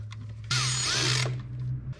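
A power drill or driver spins down carburetor mounting bolts in a star pattern, a loud whirring burst of under a second, up close, over a steady low hum.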